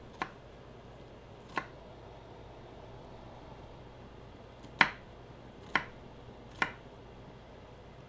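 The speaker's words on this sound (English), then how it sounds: "I just kind of do rough chopping here at the ends." Five sharp, separate knife chops while roughly chopping the ends of an ingredient for a pie, spaced irregularly over a few seconds against a quiet background with no talk.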